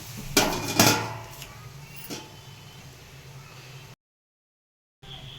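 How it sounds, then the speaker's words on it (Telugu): A metal lid is set onto a cooking pot of bottle gourd halwa, giving a couple of close clattering knocks followed by a soft clink and quiet stove noise. "మూత పెట్టేసుకుందాం."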